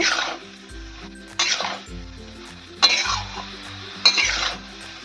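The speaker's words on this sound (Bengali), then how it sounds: "আমি ভালো করে বিট লবণ আর তেঁতুল গোলা যে জলটা দিয়েছি ভালো করে নাড়িয়ে নেব" Jujube pickle being stirred in a pan with black salt and tamarind water: a few distinct spoon strokes, each a sharp scrape or clink followed by a wet, sloshing drag, close and fairly loud, no voices.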